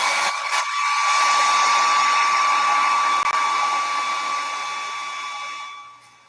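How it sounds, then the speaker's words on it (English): A hair dryer blows steadily on paint on a decorated clipboard, a loud, close, even whine with a constant motor tone that runs for several seconds before switching off, with no talking. "I need to blow dry this."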